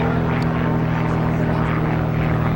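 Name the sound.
aerobatic propeller airplane flying an outside loop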